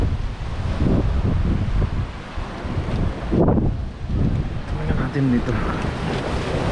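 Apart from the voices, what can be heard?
rough sea waves by the shore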